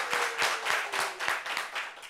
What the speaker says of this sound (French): Il faut applaudir pour l'INJS quand même